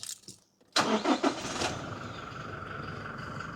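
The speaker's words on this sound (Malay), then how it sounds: "Kita try start engine." A Toyota Hilux engine cranks briefly after a quiet moment, catches with a loud burst, then settles into a steady low idle close by; no talking.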